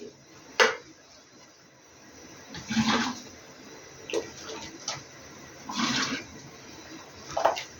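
Hot peach syrup poured into glass jars for canning, several separate splashing pours with clinks of glass in between, close and moderately loud.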